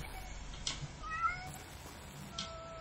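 A kitten meows in the video game Amanda the Adventurer, several short, faint mews spread across a quiet background hum.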